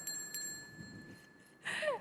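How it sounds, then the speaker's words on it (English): A single bell tone rings out near the end, marking the close of a panelist's two-minute speaking time at a stewardship panel discussion, clear against quiet room ambience. "at the end of 2 minutes, even though it's a mid-sentence, we will hear a bell"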